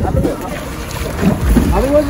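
A boat on an outing along South Africa's Garden Route near George rumbles beneath steady wind and splashing water, while people talk nearby.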